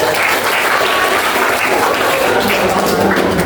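Loud, dense applause from a classroom of students, a continuous close wash of many clapping hands holding steady throughout with no pause.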